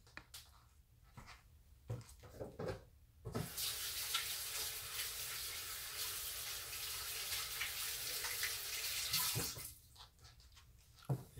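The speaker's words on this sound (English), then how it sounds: "putting some soaking water on our hands" Water runs steadily from a tap over hands for several seconds, a broad hissing splash that starts abruptly and stops, with faint handling noises before and after.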